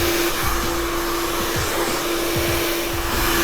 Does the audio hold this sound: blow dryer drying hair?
yes